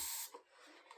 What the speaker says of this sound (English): We're gonna do just one small spray of dish soap into the water